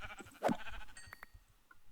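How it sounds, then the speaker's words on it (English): Minecraft sheep gives a single short bleat, followed by faint clicks and scattered game sounds, with no voices. "Should I get this sheep too?"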